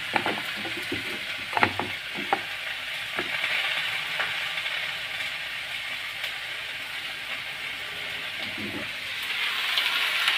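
Vegetables sautéing in a little oil in a pan for meatball and white radish soup, giving a steady soft sizzle with a few sharp utensil clicks and scrapes early on, no voices.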